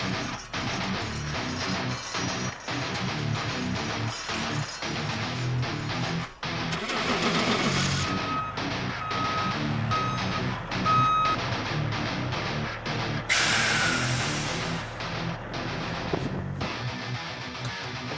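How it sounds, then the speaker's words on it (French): A large truck slowly backs out with a steady, repeating reversing beep over its loud rumbling diesel engine, close by, with air-brake hisses and clanks along the way. "Puis là, on va sortir le camion."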